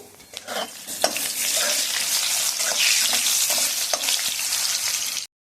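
Salted potatoes sizzle in a kadai of hot oil, a dense continuous frying hiss with occasional stirring knocks, close and alone.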